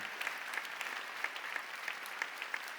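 Steady applause from a church congregation at a choir appointment service, dense clapping with no pauses, moderately loud and sustained throughout.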